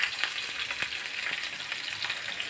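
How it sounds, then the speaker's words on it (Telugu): Steady sizzling of onions frying in hot oil, a dense crackling hiss with small pops throughout, close and continuous. "ఇప్పుడు ఉల్లిపాయలు వేసేస్తున్నాం"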